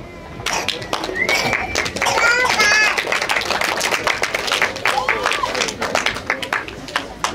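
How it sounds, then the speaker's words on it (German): Audience applause after a puppet theatre act on an outdoor festival stage, a dense run of claps with cheers and children's voices mixed in, steady and fairly loud for several seconds. "Applaus nochmal für Komma Klaus."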